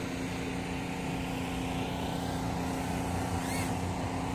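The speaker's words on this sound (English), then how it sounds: "Really quiet props until they rev up. Then you can hear them." A Kingkong 95GT FPV quadcopter on Avan Micro 2 inch props, giving a continuous buzzing whine heard outdoors, with a brief sweeping rise in pitch near the end.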